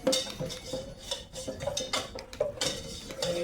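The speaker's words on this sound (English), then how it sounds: "I will put the flour in here and mix up the roux" A whisk scrapes and clinks rhythmically against a pot while flour is worked into a roux for beer cheese soup, quick repeated metallic strokes close up, steady and alone.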